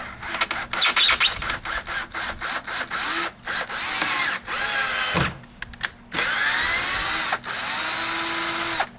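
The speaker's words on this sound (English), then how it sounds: "Now this is a 12-volt operated, battery operated drill" A 12-volt battery-powered cordless drill driving into wood near a wall stud, whining in a string of short bursts and then longer steady runs, loud and close with brief pauses between pulls of the trigger.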